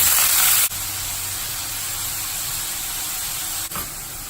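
Green raw tomatoes sizzle in hot oil with mustard seeds and curry leaves, a loud, close, continuous frying hiss with two brief dips in intensity.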